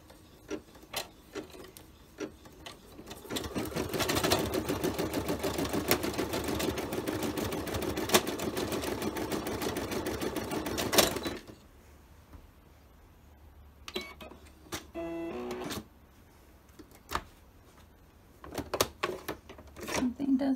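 A Brother embroidery machine stitches an appliqué design with a fast, steady mechanical rattle that runs for several seconds and then stops, leaving scattered clicks and a person talking close by.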